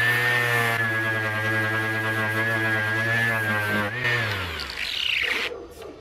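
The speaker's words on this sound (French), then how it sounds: "Là, j'ai la ponceuse qui commence à être fatiguée." An electric orbital sander with 120-grit paper works over a varnished wooden chair. It drones steadily and loudly, then its pitch drops as the motor winds down, leaving scraping and rubbing noises at the end.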